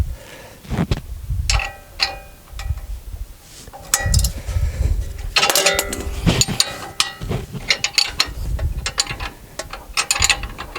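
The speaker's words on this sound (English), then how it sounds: "I have a pass-through wrench. It helps out with some of the stuff, with some of the bolts that we're taking off." Pass-through ratchet wrench loosening front suspension bolts on a 2017 Ram 1500 4x4, in close, irregular bursts of rapid metallic clicking with clinks of tools between them.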